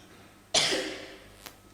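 A preacher with a dry throat gives a single cough at a church worship service, a sharp loud burst that trails off over about a second, followed by a faint click.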